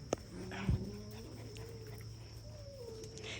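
Puppies on a small house farm in Ghana squabbling, with soft high whimpers and a brief yelp standing out over steady low background hum, faint and somewhat distant.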